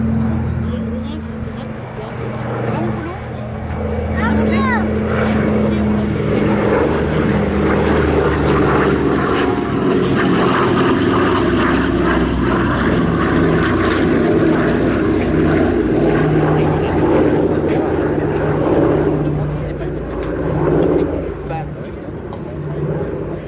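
A Douglas DC-3 Dakota of the Battle of Britain Memorial Flight runs its piston propeller engines at Duxford. The drone is loud, continuous and rumbling, and it lasts the whole stretch with airshow commentary spoken over it.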